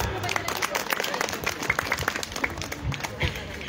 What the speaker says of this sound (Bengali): তাদের জন্য সকলে মিলে একটা হাততালি দেবেন।